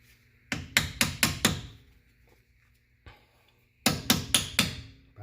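Hammer tapping a new wheel hub bearing assembly into place on a 2007 Mercedes-Benz CLK550 AMG, two close bursts of four or five sharp metallic taps each, separated by a quiet pause with a single softer knock.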